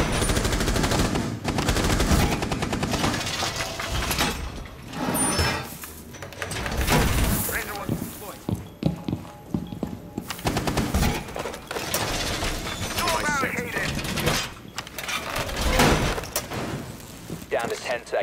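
Rapid automatic gunfire and bursts of shots in a Rainbow Six Siege bomb match on the Theme Park map, loud and nearly continuous, with sliding and impact noises between bursts and game voice lines over it.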